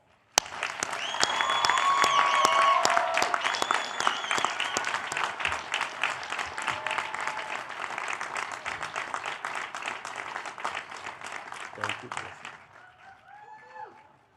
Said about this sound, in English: with a well-deserved round of applause